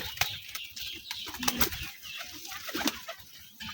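A frightened local (deshi) pigeon chick flutters its wings in short, quick bursts close by, with soft scuffling in between.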